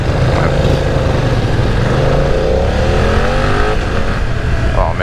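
A 2020 BMW F900R motorcycle with a quick shifter accelerates hard, its engine note rising and stepping through quick gear changes, loud and continuous with a rider's voice over it.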